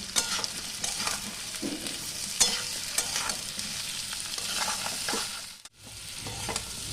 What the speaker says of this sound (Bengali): ওল আলু বেশ ভালো করে ভাজা হয়ে গেছে